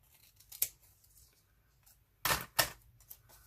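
Scissors cut through a 12 x 12 cardstock sheet in a few crisp snips, one short cut followed by two louder closely spaced ones, heard close up with no talking.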